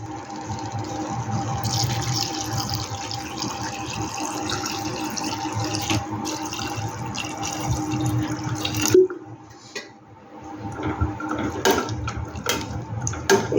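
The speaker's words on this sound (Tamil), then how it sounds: "இது மூழ்கிற அளவுக்கு கொஞ்சம் தண்ணி ஆட் பண்ணிக்கலாம்." Water pours steadily into a metal pressure cooker for several seconds while making pasta, a continuous splashing rush that briefly pauses, then resumes with sloshing and drips.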